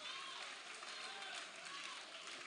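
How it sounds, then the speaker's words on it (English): Audience at a business workshop opening ceremony applauding, a continuous muffled wash of clapping from a crowd that stays even throughout, with a voice speaking over it. "Can we applaud them one more time?"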